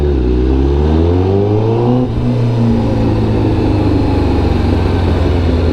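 Riding a Honda Rusi motorcycle through heavy road traffic, a nearby engine revs up in a rising drone and then settles into a steady idle-like rumble, loud and close with no talk.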